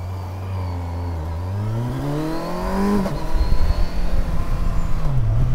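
An adventure motorbike engine drones steadily while riding, its pitch climbing smoothly as it revs through a gear before a shift, then settling into a rougher, louder rumble with wind buffeting.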